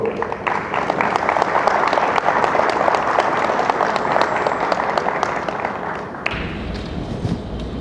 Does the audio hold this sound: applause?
yes